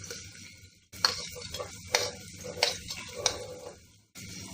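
Chopped onion and green chilies fry in a cooker with a steady soft sizzle, broken by several sharp stirring scrapes, then a brief hush before the sizzle resumes.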